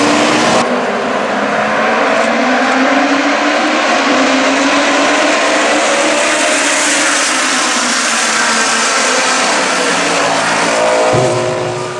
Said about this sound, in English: I wanted to let you have some native audio there for a minute and hear the cars and all.